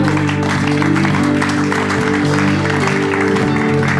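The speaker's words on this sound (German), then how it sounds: "lass uns Jesus einen Applaus geben" Church congregation applauding during a sermon, a loud, steady wash of many hands clapping that fills the whole stretch without a break, with a low sustained hum running beneath it.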